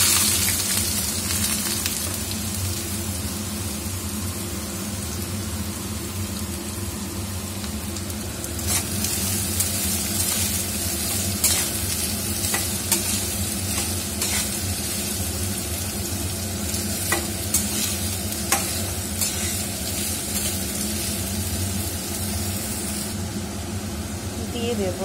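Chili, grated carrot and beetroot fry steadily in a pan, giving a continuous sizzle with occasional scraping stirs, over a low constant hum.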